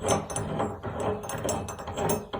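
Metal threaded handle spun off the shaft of a rimlock, giving a rapid, steady ratcheting click with close, bright metallic ticks that continue for a couple of seconds with no voices.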